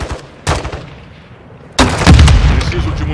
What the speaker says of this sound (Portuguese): Jogando granada.